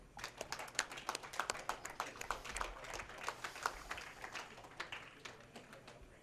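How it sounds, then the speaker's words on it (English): A crowd at a bowling tournament finals applauds the semifinalists, a quick run of scattered hand claps from a small audience, moderately loud, tapering off toward the end over room noise. "Let's give a big round of applause for your semifinalists, Stu Williams and Dom Barrett"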